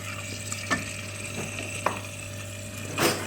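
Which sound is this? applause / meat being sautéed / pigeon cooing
meat being sautéed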